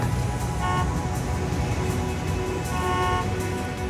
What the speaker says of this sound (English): I'd rather have the traffic noise